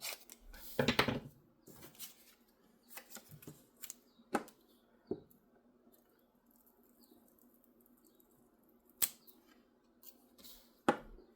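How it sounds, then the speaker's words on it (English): Scissors cut through craft material at close range, a few quick snips and rustles spaced apart with quiet pauses between them in a calm room. "We're going to give it a cut."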